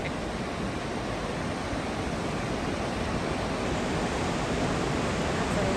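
Rapids of the Rupert River near James Bay, a dense, steady roar of rushing water that fills the whole clip without letup and with no voices.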